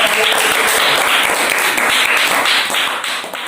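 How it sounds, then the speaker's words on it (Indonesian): A group in a classroom fitness lesson gets a burst of close, dense hand clapping that carries on steadily for a few seconds and tapers slightly at the end. "Ya, tepuk tangan untuk kelompok."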